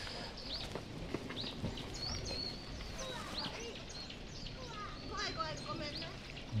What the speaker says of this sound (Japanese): 鳥もいっぱい来てます。